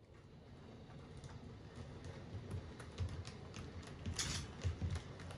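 An H0-scale model train pulling PIKO UIC-Y coaches runs along the track with faint, steady clicking and rattling. The sound stays quiet throughout, with no talk.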